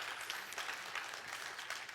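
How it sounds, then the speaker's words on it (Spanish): A church congregation applauds the Lord in a continuous wash of clapping, moderately distant and steady for the whole stretch, with no talk over it. "Denle un fuerte aplauso al Señor."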